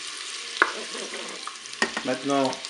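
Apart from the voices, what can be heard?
stirring duck breast with honey in a Cookeo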